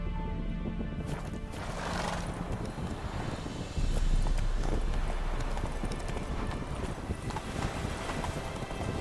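Roach the horse in The Witcher 3 video game gallops with steady clip-clop hoofbeats and lets out a whinny, set against wind-like ambience and a dense game mix that grows louder midway.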